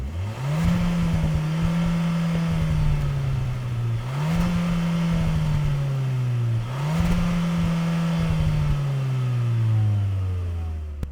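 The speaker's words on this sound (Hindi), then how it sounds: "Put it in the first gear, listen to the exhaust." Hyundai Creta N-Line with manual gearbox, its exhaust revving in first gear: three steady, loud engine drones, each dipping briefly before climbing again, close and with no talking.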